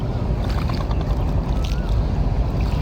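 A small wooden rowboat rocking and creaking mid-river on the way to Sharighat, with water sloshing against the hull and wind noise, steady and close with light knocks, no talk.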